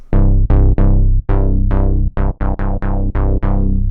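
A buzzy synth bass with no filter resonance plays a repeating pattern of about a dozen plucked notes, bright and dry, with a quick rhythmic pulse.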